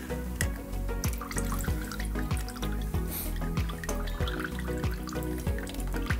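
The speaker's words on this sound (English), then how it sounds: "all we need is just one male fitting to release the liquid" Coolant liquid draining from PC water-cooling tube fittings opened with a male fitting, a close, steady run of rapid drips and trickling splashes falling into liquid.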